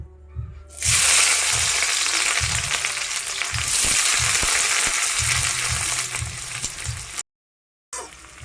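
Onions dropped into hot oil at a Kolkata street food stall burst into a loud, steady sizzle with occasional stirring clinks, continuing for several seconds before a short cut.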